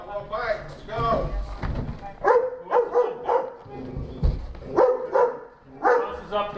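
A police German Shepherd K9 barks in loud, repeated bursts close by, with some yips between barks, while officers talk and shout commands around it.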